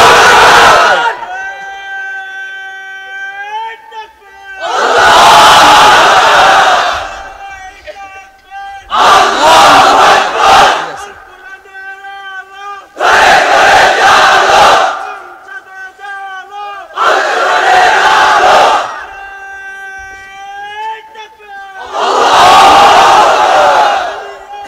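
A large crowd of unmarried men at a religious gathering roars a call-and-response chant of the takbir, with a leader's sustained sung line alternating with about five massive shouted crowd bursts, loud and echoing, with pauses between.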